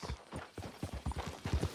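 Horse hooves clip-clop at a steady walk in the Red Dead Redemption 2 video game, a close, rhythmic run of soft, dull thuds on dirt.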